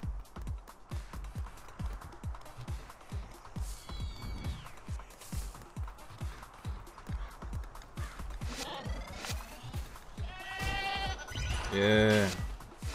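A sheep bleats in the video game Tokyo Jungle over quick, regular running footfalls, with a few short calls and one loud, close bleat near the end.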